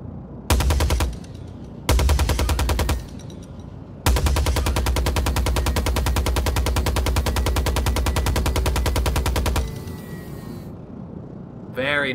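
Video game Gatling gun on a P-52 Merlin aircraft firing in dense rapid bursts: two short volleys, then one long sustained stream of rapid shots over the engine drone, ending as the barrels spin down.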